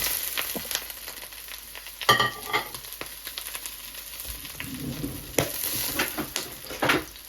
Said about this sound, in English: We throw in the mushroom there. We let the mushroom stand in the oil.